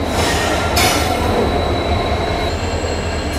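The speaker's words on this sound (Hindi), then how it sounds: "प्लेटफॉर्म नंबर 6 पर जो ट्रेन आ रही है" A double decker train, no. 12584 from Delhi to Lucknow, rolls loudly and steadily into platform 6, its wheels squealing high over a constant rumble.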